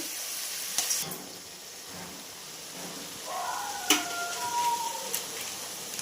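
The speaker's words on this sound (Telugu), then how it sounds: "వెల్లుల్లిపాయలు అల్లం మొక్కలు మనం వేసుకునే పేస్ట్ ఇది పచ్చివాసన పోయే వరకు కొంచెం వేపాలి" Garlic ginger paste fries in a pan with a faint, crackling sizzle, broken by a few sharp clinks and stirring scrapes.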